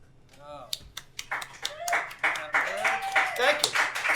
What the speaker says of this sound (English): Nice to hear real live applause